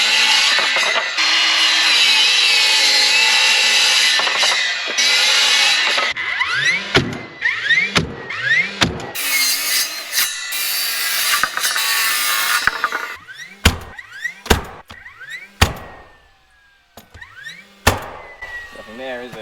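A DeWalt 20V cordless miter saw (DCS361) cuts through wood boards in a series of sharp, loud bursts, each motor whine spinning up and dropping away, with short gaps and a few clattering knocks between cuts.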